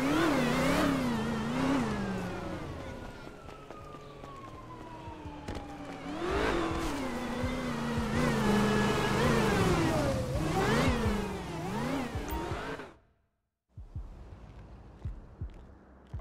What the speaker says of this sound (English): He about to hit the gas.